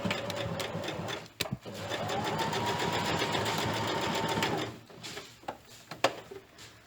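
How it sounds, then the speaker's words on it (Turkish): A sewing machine stitching a triangular tunic placket runs in a continuous close whirring burst for about three seconds, framed by short mechanical clicks and handling knocks before and after. "Üçgeni çok dikkatli bir şekilde makine çekeceğim"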